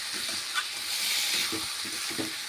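Ground ginger-garlic and tomato paste stirred into chicken in a pan for Kolkata-style chicken biryani, with a steady sizzle and hiss and spoon scrapes every half second or so.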